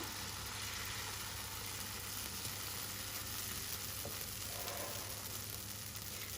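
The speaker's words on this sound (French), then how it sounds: "Et ensuite, on fait cuire la pâte." Bread dough cooking in a hot pan over medium heat, a soft, even sizzle with a constant low hum beneath, faint and steady throughout.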